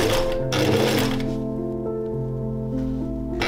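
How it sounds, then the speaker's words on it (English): Sewing machine stitching French seams in tulle fabric, a steady close mechanical whir with a continuous hum and light rhythmic rattle. "then it's time to sew all the tulle parts together. With tulle I prefer to use French seams"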